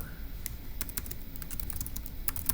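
Rapid typing on a computer keyboard, heard as a steady run of crisp key clicks at close range over a low background hum.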